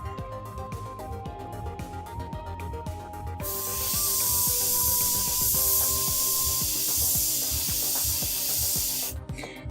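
An airbrush sprays in a loud, steady hiss for several seconds to dry the tip, coming in over background music and cutting off abruptly near the end.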